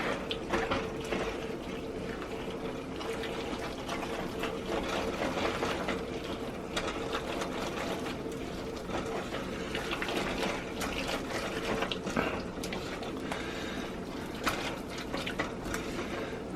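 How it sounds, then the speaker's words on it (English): Melted cheese sauce made with half-and-half pours into a pot of cooked macaroni for homemade mac and cheese, a continuous wet, gurgling stream with soft splatters and clatter throughout. "Go ahead and pour this into the macaroni."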